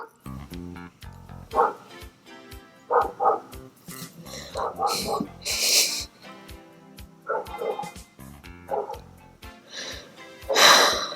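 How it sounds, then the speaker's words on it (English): A dog barks in short bursts, with sharp yips scattered across the clip alongside game-like sounds and noises, fairly close and moderately loud. "And a dog is barking."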